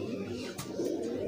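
A Sialkoti pigeon coos softly at close range in short, low throaty bursts, with a sharp click or tap at the end and a faint background murmur.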